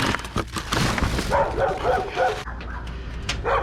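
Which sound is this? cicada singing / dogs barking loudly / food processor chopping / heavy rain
dogs barking loudly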